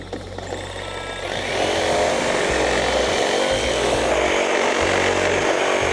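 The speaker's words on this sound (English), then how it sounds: "I'm gonna get the Sawzall, cut these back, cut that back" A Sawzall reciprocating saw cuts back material while building a backyard home office, a loud, continuous buzzing rasp that starts after a quieter second and runs steadily close by, with no talking.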